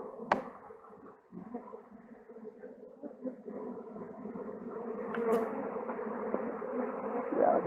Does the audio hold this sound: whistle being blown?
no